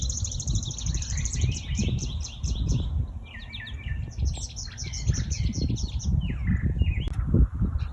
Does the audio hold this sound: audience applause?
no